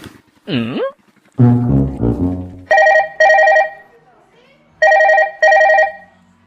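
A telephone rings in two paired bursts of trilling bell tones, close and loud, with short gaps between them; a voice and other sounds come earlier.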